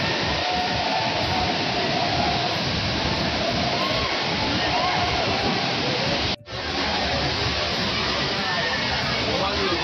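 Rautwadi waterfall near Kolhapur, in monsoon, fills the scene with a continuous roaring rush of falling water, dense and loud, broken only by a brief cut before the roar resumes.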